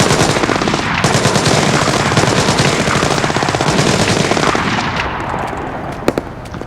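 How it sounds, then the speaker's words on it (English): Sustained automatic gunfire in the Splinter Cell Blacklist video game, set in Benghazi, Libya: loud, dense rapid bursts filling the whole stretch, easing slightly near the end with a final sharp shot. "we're gonna wait for him to start shooting"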